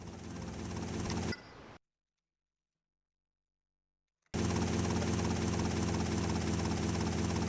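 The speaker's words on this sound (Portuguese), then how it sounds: "Mas é um helicóptero, pô." A helicopter in GTA Vice City Stories on PS2 whirs loudly and steadily, cutting to total silence for a few seconds before the rotor and engine drone resumes at full volume.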